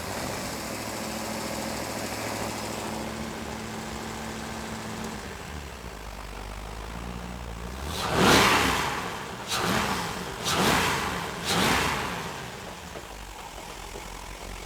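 Engine of a 2000 Baja H2X boat running on the flush hose, idling quietly at first, then three or four sharp, loud blips of revving in quick succession.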